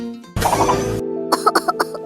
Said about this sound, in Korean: 기침이 점점 심해지는구나